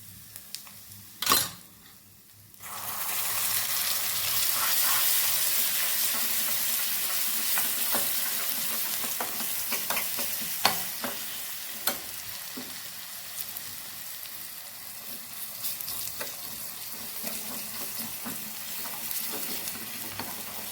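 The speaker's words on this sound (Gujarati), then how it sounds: "લસણ સતાળી જાય ત્યાં સુધી આપણાને આને સાતળવાનું છે" Garlic, ginger-garlic paste, dried red chillies and asafoetida sizzle in hot oil as the tempering for panchratna dal, a close, steady hiss that starts after a brief clatter and goes on with a few small pops.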